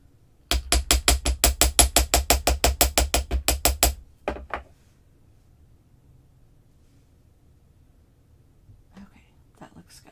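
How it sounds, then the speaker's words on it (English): A ball peen hammer strikes a wire bangle in a fast, even series of about twenty sharp metallic taps, then one or two lone hits before quiet, with faint sounds near the end. "And I'm going to hammer that just a little bit more."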